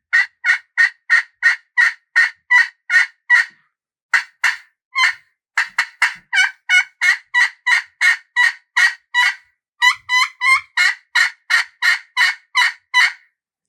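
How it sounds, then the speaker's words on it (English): Turkey yelps worked on a pot call: long runs of evenly spaced, sharp raspy notes, loud and close, broken by a few short pauses, with no talking. "And you need to know a yelp."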